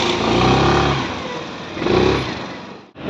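A rented scooter rides from Dehradun toward Mussoorie, its engine droning steadily close by with a surge of revving midway and wind rush, easing off briefly near the end.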